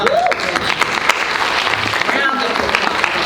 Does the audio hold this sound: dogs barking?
no